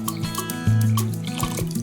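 Water trickles and drips as it is added to a clay pot of simmering meat being cooked until tender, a steady liquid pouring sound with a stronger gush partway through, close and fairly loud with no talking.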